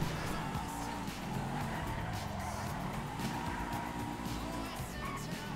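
Car in Grand Theft Auto 5 driving hard with tires skidding and squealing, engine tones rising and falling over several seconds at moderate level, with faint game sounds mixed in.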